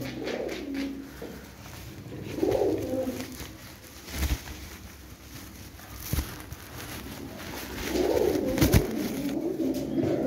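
Pigeons coo softly in low, rolling bursts, with a few sharp taps and rustles nearby and no talking.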